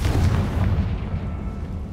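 Confringo spell blast in Hogwarts Legacy on PlayStation 5, a single loud booming explosion that rumbles and fades over two seconds.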